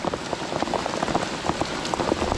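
Heavy rain pours steadily during a fishing outing among nipa palms, a dense, continuous hiss of drops drumming on a nearby surface with scattered louder splats, loud and close with no voices.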